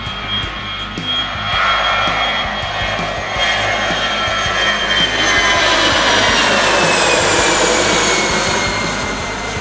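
A fixed-wing airplane takes off from a runway near Mai Khao beach in Phuket, a loud, close, continuous jet engine roar that swells steadily and grows brighter for the whole stretch.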